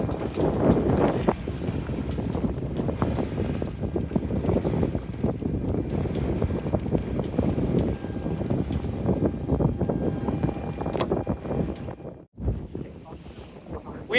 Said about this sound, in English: I'm out getting some practice sail time in before the racing tonight